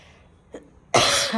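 A single harsh cough bursts out close by, preceded by a brief faint click.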